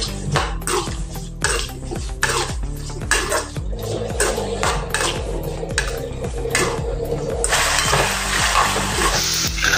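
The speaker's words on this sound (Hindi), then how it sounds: "इसको अभी हम आलू को तल लेंगे।" Potatoes frying in a pan for an aloo sabji, with rhythmic clinks and scrapes of a spoon against the pan over a faint sizzle, growing into a louder hiss toward the end.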